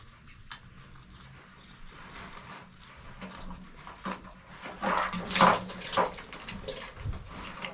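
Water spills from the relief valve opening of a full hot water tank as the pressure relief valve is swapped, a brief splashing gush partway through amid quiet handling noises.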